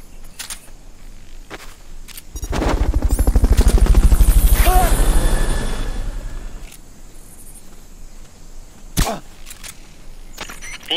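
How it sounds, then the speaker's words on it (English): A Fulton recovery helicopter in the video game Metal Gear Solid: Peace Walker swells in as a loud rhythmic rotor chop, peaks, then fades over several seconds, followed by a sharp click and faint game sounds. "Fulton recovery helicopter is complete."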